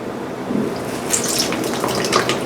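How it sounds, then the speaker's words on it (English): Water wiped away with a sponge from the underside of a papermaking screen during homemade paper making, a steady wet trickling and dripping close by with soft splashy bursts throughout. "I've been wicking the water away from the bottom of the screen with a sponge as much as I can."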